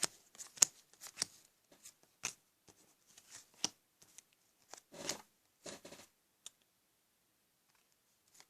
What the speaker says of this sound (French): moi je vais mettre les cartes sur le côté